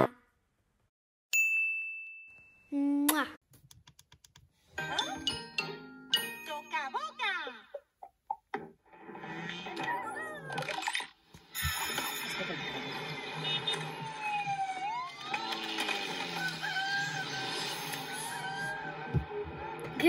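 Bright chiming ding-like intro jingle from the Toca Life video game, with tinkling tones and busy melodic passages after a brief quiet start, playing alone at moderate loudness.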